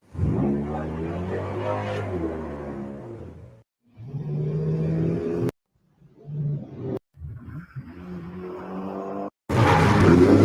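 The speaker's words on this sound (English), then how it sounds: "I had to go through a lot of different samples to create the drag racing" AI-generated drag racing car samples play one after another: a loud engine roar with rising revs, then several short bursts of revving and rumble broken by abrupt silences, ending in a harsh full-throttle blast.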